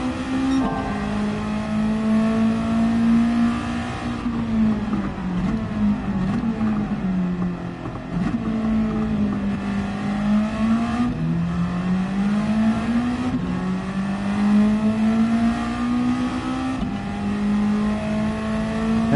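A rotary-engine-swapped Mazda MX-5 in Gran Turismo 7 gives a loud, continuous engine drone that climbs in pitch through the gears. It dips briefly at each shift before rising again, with no one talking over it.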